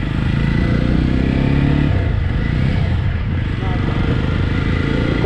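A 2021 Jawa 42 2.1 motorcycle on the move, its engine a steady loud rumble with wind noise throughout, and a shift in the engine note near the middle as it changes gear.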